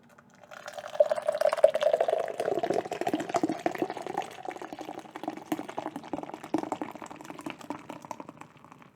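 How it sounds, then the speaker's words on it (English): A chilled can of soda poured hard into a glass, a steady liquid stream followed by a long, crackling fizz of bubbles, close and quiet. "They say to chill can, pour hard,"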